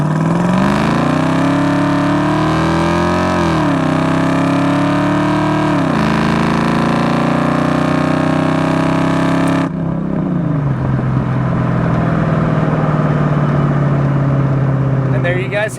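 A 1990 Ford Mustang LX coupe with a 5.0 V8 and automatic transmission revs hard on a test drive, its engine pitch climbing and dropping with each gear change before settling into a lower cruising drone.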